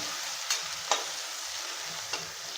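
Garlic and curry leaves sautéing in a pan make a constant bright sizzle, with a few sharp stirring clicks and scrapes at irregular intervals.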